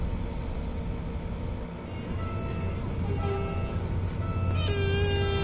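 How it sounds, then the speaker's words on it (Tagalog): Train passing nearby with a rising low rumble and rattling wagons, ending in sustained tonal whines, while people are faintly heard in the background. "Stop muna, dadaan ang tren."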